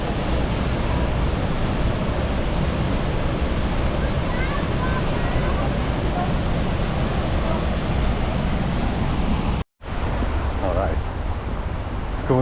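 High Force, a large waterfall in northern England, rushes in a steady, loud broadband roar that fills the whole stretch, with a brief dropout near the end before the torrent resumes.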